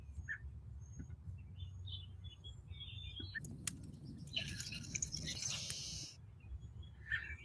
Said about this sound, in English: I'm going to leave my mic unmuted so that you can continue to listen to the birds if you would like.